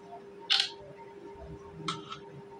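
A Tecno Spark Go phone camera fires its shutter twice while taking portrait-mode photos, two crisp synthetic clicks about 1.4 seconds apart over a faint steady hum.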